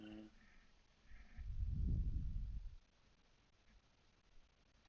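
A single drawn-out sheep bleat in a video game set on an island, fairly close and clear, rising and fading over about a second and a half against quiet ambient background.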